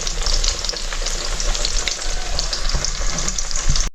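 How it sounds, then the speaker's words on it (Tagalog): Pork frying in hot cooking oil gives a loud, close, continuous bubbling sizzle with crackles and pops throughout, no talking over it. "So nagpakulo natin mantika mga idol para paglutuan natin sa fried pork."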